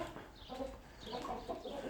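Backyard chickens cluck softly and intermittently while being fed grated organic apple, the calls close but faint, with several birds overlapping.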